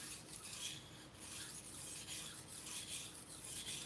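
A paring knife being sharpened, a continuous faint rasping scrape with rhythmic strokes, quiet and alone.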